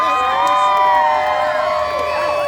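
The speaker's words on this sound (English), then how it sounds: "Who knew all I had to say was sparkly circle and you guys would cheer?" Children and audience at a live Deadpool and Wolverine story-time show cheer and whoop in a steady, loud burst that holds for the whole moment with no pause.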